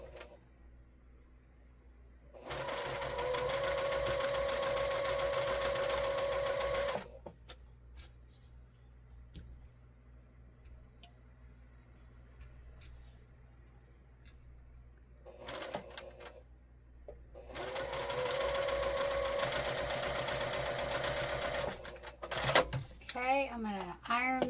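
A sewing machine stitches along good-quality quilting fabric in two steady bursts of several seconds each, with quiet pauses between runs and faint handling noise at the end.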